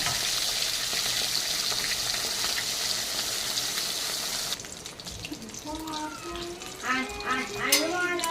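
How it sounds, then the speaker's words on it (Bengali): Fish fries in hot oil in a pan with a steady, dense sizzle for several seconds, which then drops away into quieter background kitchen sounds. "এই যে মাছটাকে ভেজে নিচ্ছি।"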